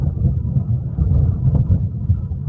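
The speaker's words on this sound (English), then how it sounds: "Well, that sound is thunder" Low rolling thunder rumbles steadily in the aftermath of a tornado in Harrison, Arkansas, a deep continuous grumble with small swells and no talk.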